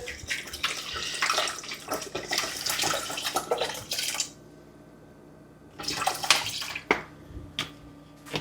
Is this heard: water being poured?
yes